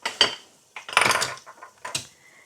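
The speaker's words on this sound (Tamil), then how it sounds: "நான் இதை வதங்க வைக்க இப்படி ஒரு மூடி ஒன்று போடுறேன்" A lid is set onto a cooking pot while ginger and garlic fry for a goat curry, giving a few separate metallic clanks and knocks, with a sharp clatter near the start and a longer rattling contact about a second in.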